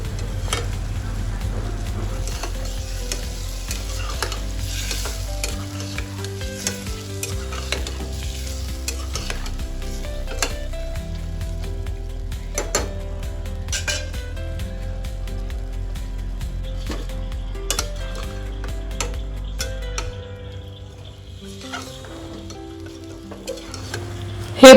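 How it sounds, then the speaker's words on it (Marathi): Cooked chicken pieces with spice paste sizzle in oil for Maharashtrian chicken rassa, a spatula scraping and knocking against the pan in frequent irregular strokes over a steady close fry, with a low rumble underneath until it eases near the end. "यामध्ये मी आता शिजलेले चिकनचे पीस, म्हणजे ही उकड टाकून घेणार आहे आणि थोडे परतवून घेणार आहे."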